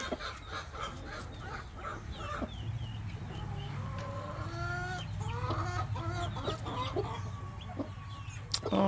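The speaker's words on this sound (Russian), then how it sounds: "Ну, очень хорошенькая она курица." A mother hen softly clucks among her chicks, with repeated low clucks and high thin cheeps close by against light background noise.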